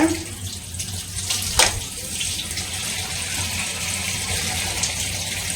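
Fish is washed with turmeric under running tap water, a steady hiss of flowing water into a sink with a brief splashy surge near the start.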